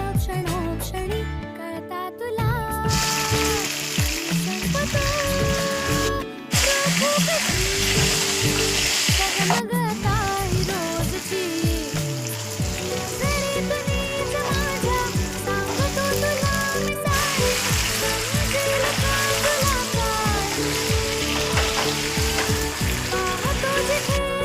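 Stuffed chili peppers fry in a pan with a loud, steady sizzle and crackle that runs continuously throughout, with occasional stirring clatter and no talking.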